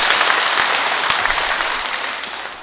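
A church congregation at a Gregorian Mass at Sinjeju Cathedral breaks into dense, steady applause that fills the hall, then slowly tapers off toward the end.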